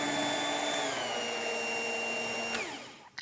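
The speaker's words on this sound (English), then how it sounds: "if you want to lift the mixer out, you can see how nice and smooth the dough is" A stand mixer kneading bread dough whirs in a steady, loud motor whine close by, then slows and cuts off, leaving brief clicks as it stops.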